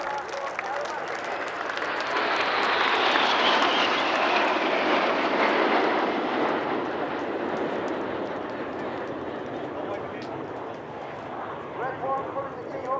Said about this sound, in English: Of course, it wouldn't be Cosford without the Red Arrows